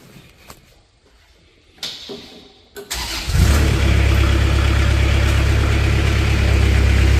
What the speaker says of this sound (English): Now we're going to go ahead and fire it up